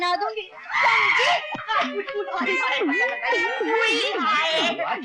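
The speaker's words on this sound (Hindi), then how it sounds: "क्या हुआ, क्यों चिल्ला रही हो?" A woman screams loudly and repeatedly during a heated domestic squabble, her voice rising and falling in wavering, shrill cries that run almost continuously and up close.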